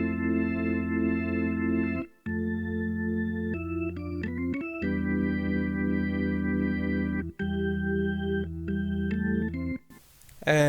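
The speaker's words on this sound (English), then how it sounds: "I then added an organ from B42" A vintage-style organ layer from B42 plays sustained chords alone, with rich held harmonics shifting between voicings and a few short breaks between phrases.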